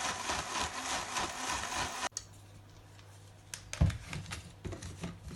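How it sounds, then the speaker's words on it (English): A kitchen grinder blending apple, dates, oats and milk into a smoothie whirs loudly and steadily for about two seconds, then cuts off abruptly, leaving quiet room noise and a few small knocks. "then we'll just grind it as I'm doing now"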